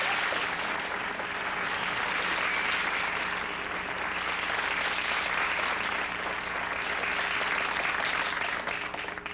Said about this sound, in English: They clap for so long